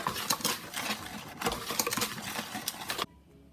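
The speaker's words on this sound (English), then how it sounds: "Give it a quick whisk." Self-rising flour and sugar being whisked in a bowl: quick, soft rhythmic scraping and patter of the whisk for about three seconds, then stopping abruptly, with no talking.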